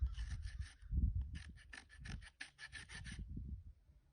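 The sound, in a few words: rasp filing a wild Mustang's hoof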